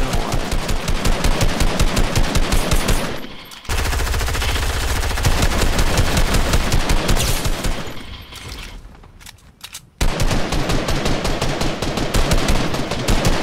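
A blue burst rifle fires in Fortnite with rapid continuous volleys of loud close gunshots. The shots break off briefly twice before resuming, with no voices heard.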